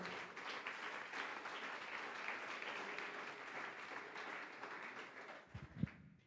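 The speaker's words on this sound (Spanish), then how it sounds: "Dele un aplauso al Rey." A church congregation applauds at a worship service in Medellín, a steady, dense wash of clapping that holds evenly for several seconds before thinning out, with a few louder thumps near the end.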